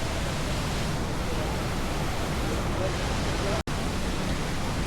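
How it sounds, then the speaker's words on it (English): Waterfalls along a trail at Animal Kingdom produce a steady, dense rush of falling water, broadband and continuous like pink noise, with one very brief dropout near the end. "You can hear the waterfalls"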